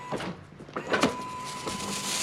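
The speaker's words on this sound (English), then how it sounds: "Awning, extend and retract" Electric awning motor on a 2021 Hideout LHS travel trailer extending and retracting, a low steady whir with a few brief clunks, fairly close and heard alone.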